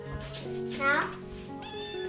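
A cat meows several times in close succession, the calls loud and near with a rising, drawn-out wail in the middle, while a person talks alongside.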